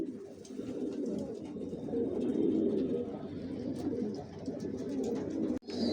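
Racer pigeons coo steadily inside a loft, a dense, continuous low murmur of many birds close by with no talk over it, ending in a brief dropout.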